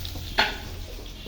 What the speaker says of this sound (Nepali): अब यो प्याज पनि फ्राई भइहाल्छ अनि सँगै मासु पनि एकदम खतरा फ्राई भइहाल्छ।